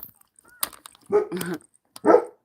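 A dog gives a few sharp, close barks and yips indoors, with someone speaking briefly between them.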